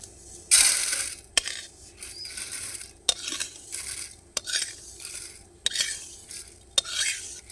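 Fried gobindobhog rice is tipped and scraped out of a pan onto a plate, producing bursts of pattering grains broken by sharp metallic clinks and scrapes of a utensil against the dishes.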